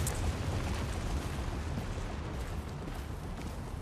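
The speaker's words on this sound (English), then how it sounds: "he's got a grenade coming in" A grenade blast in the video game Tom Clancy's The Division rolls out as a loud, sustained broadband rumble with heavy low end, fading only slightly over several seconds with no talk.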